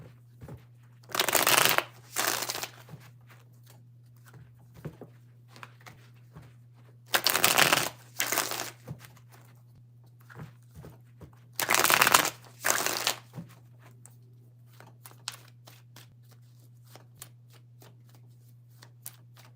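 Tarot cards are riffle-shuffled three times in separate bursts of about a second each, close and crisp, with quiet gaps and small card handling taps between them.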